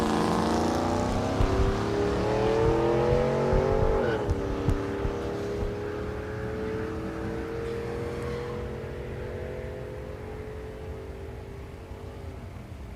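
Chevrolet Trailblazer SS and Silverado drag racing at Thunder Valley in Noble, Oklahoma, loud engines roaring and climbing through gears, then a long steady fading drone as the vehicles pull away down the strip.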